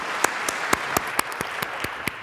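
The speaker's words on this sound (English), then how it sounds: "Let's give them all a round of applause." A small audience gives a round of applause: a brief, moderately loud patter of separate hand claps, sparse and evenly spread.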